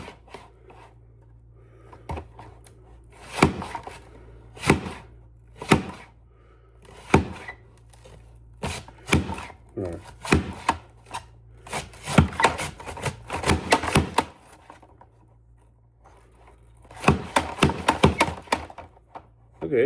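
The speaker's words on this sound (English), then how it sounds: "So we're slicing up an onion." Knife slicing through an onion on a wooden cutting board, producing a series of sharp, crisp chops in uneven bursts with short pauses, close and clear, with no talking.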